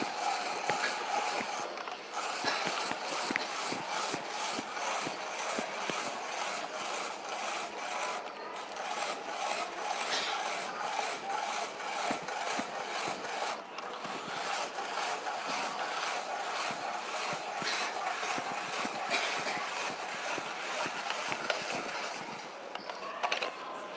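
A hand-crank spiralizer grinds steadily through a yam, producing a continuous scraping, rasping whir with a slight rhythmic rattle that runs unbroken for the whole stretch.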